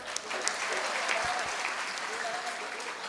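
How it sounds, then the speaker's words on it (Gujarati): Steady, dense applause from a packed audience of men and women at a diksha ceremony, sustained and fairly loud throughout with no break. "તમે બધા તમારા માટે તો તાળીઓ પાડો."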